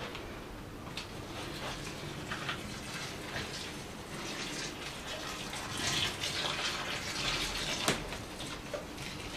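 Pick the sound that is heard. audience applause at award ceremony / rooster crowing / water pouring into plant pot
water pouring into plant pot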